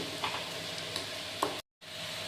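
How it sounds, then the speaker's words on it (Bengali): Sugar and ground spices sizzling and being stirred in a pan for a vegetarian potato and pointed gourd dalna, a steady close frying hiss with a few soft scrape clicks and a brief dropout near the end. "আর এখন চিনি আর বাকি গুঁড়া মশলাগুলো ভালো মতো কষিয়ে নেব"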